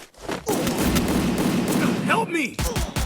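Rapid gunfire in the video game Free Fire bursts close and loud, a dense rattling volley filling most of the moment, with a voice exclaiming over the shots.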